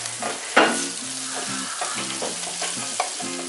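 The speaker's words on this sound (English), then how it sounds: "And we are going to fry this for 1 minute. I'm going to add some onion." Chopped onion frying in coconut oil in a pan, a broadband sizzle running steadily throughout with scraping stirring strokes and a sharper clatter near the start, close and moderately loud with no talking.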